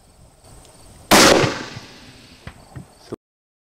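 A single sharp hunting rifle shot fired at a buck cracks loudly and decays into a short echo, followed by a few faint clicks and knocks in an otherwise quiet outdoor setting.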